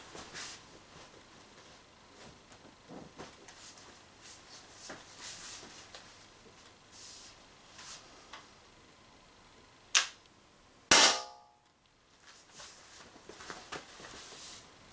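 Two sharp, loud bursts from a Umarex HDR50 air pistol fitted with a Powerkit50 and tuning barrel ring out a second apart. Quiet rustling and faint handling noise surround them.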